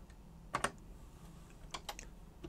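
Keys on a TRS-80 CoCo 1 computer keyboard being typed, a few sharp clicks in small bursts spread over a couple of seconds, close and fairly quiet against a low background hum.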